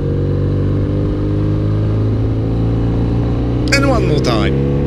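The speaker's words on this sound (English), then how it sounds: "I won't ruin that sound, that motorcycle sound" A motorcycle engine runs steadily and loudly throughout while riding, with a strong continuous drone, a brief rise in revs, and a burst of shifting higher engine tones near the end.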